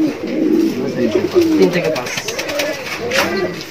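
Close cooing from Yellow King pigeons rolls in low, warbling phrases, a few repeated calls over a brief stretch.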